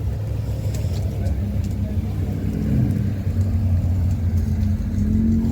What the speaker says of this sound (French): Non, c'est une Volkswagen, ça.